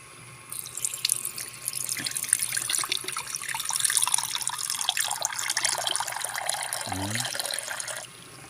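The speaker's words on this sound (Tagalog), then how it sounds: "lagyan natin ito ng konting" Water runs from a kitchen tap into a cooking pan holding tofu for sautéed pechay, a steady rushing splash that lasts several seconds, then stops, with a brief clank of the pan near the end.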